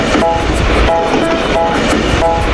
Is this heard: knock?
no